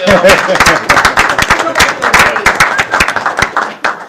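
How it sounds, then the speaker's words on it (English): A group at a city council meeting claps, with many sharp, uneven hand claps piling up into brief applause amid some background murmur. "I feel like we should clap for Sam."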